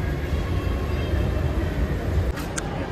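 Steady rumble of a metro train at a station, with a broad, continuous roar and faint hiss throughout, a brief shift near the end, and no voices.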